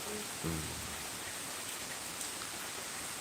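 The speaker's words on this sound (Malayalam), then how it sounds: "അടിപൊളി മഴയാണ് പെയ്യുന്നത്" A steady wash of rain pours down with constant hiss, broken only by a brief low hum near the start.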